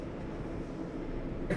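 A subway train in the OpenBVE train simulator game rumbles steadily as it bypasses a station, a continuous low rolling noise at moderate level with no talk.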